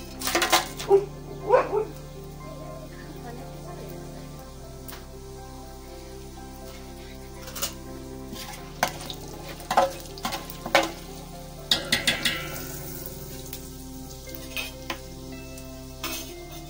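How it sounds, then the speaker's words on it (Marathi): Whole spices sizzle in hot oil and ghee for chicken biryani, a soft continuous fry punctuated by intermittent clinks and scrapes of a spoon stirring the pan. "आता तेल आणि तूप चांगलं तापले, हा जो खडा मसाला काढलाय तो टाकूया"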